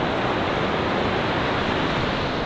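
Niagara Falls pours over its edge in a loud, unbroken roar of rushing water, a dense steady rumble heard close by with wind buffeting the microphone.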